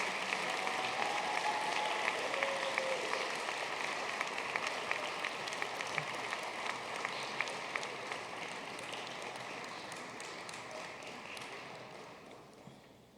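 Applause from the guests at an alumni gala dinner, dense clapping that runs steadily for most of the stretch, then gradually thins and fades toward the end.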